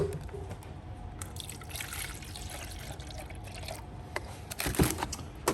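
A coffee capsule espresso machine brews, with liquid trickling and pouring steadily into a small cup over a low mechanical hum. There is one louder splash near the end and no speech.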